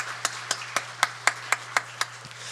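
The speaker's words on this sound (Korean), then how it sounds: "축복의 박수 하겠습니다." Blessing applause at a Sunday church service: about nine crisp, evenly spaced claps in a steady beat, fairly quiet, over a faint electrical hum.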